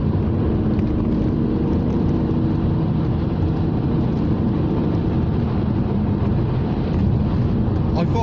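An Alfa Romeo 156 V6 pulls at part throttle while driving, a steady mid-level engine drone blended with road and wind rumble from inside the car, loud and continuous with no clear voice on top.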